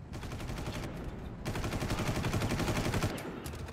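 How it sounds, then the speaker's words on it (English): Rapid gunfire from enemies in the video game Far Cry, dense crackling bursts of automatic shots running continuously throughout, loud and close with no pauses. "there's two rocket dudes. Or at least two rocket dudes currently shooting at me."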